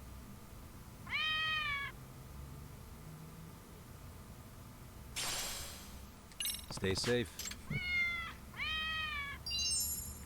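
Cat in the video game Lost Judgment gives several short rising meows at close range, mixed with chiming game interface sounds and a brief electronic burst, while a voice speaks briefly.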